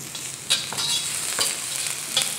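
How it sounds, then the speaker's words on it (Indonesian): Garlic sautéing in hot oil, sizzling steadily up close, with a few sharp scrapes and clinks from stirring and no voices. "Tumis dulu bawang putih"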